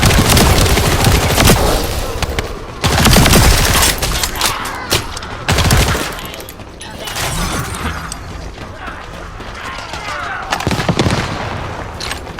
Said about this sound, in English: Summoning assault turret.